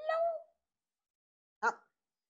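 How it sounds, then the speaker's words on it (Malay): A cat meows twice, a longer cry followed after a silent pause by a short, sharp second meow, both close and clear. "itu bunyi kucing"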